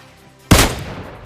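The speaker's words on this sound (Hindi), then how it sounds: "और अब देखो धोखे से हेडशॉट।" A single sharp sniper rifle shot in PUBG Mobile, a Kar98 used for a headshot, cracks out loud and close, then decays quickly with no talk.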